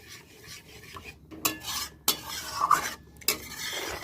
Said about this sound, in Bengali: এবার খুব ভালো করে নাড়াচাড়া করতে হবে, না হলে লেগে যাবে।